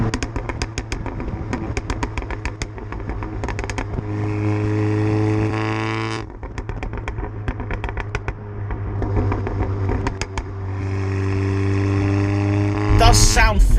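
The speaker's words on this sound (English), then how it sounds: "I quite like the sound of the burble on the way down, and the surge of boost. You can really hear that turbo going" A tuned Audi S3 with a turbocharged four-cylinder engine, around 540 bhp with methanol injection, droning loudly as it drives, with rising and falling engine tones, rapid burbling crackles on deceleration and a surge of turbo boost.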